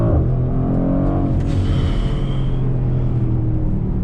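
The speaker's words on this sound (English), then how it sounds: "I just press the brake, hold down the throttle, race start" A Mercedes-AMG GLC 63 S Coupé 4MATIC+ launching hard from a launch-control race start, a loud continuous engine roar and drone heard from inside the car, steady and close throughout.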